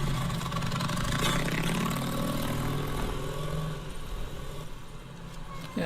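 A motorcycle with a sidecar rumbles close by in a Doctor Who episode, its engine idling and then revving in a steady, rough drone that eases off slightly toward the end.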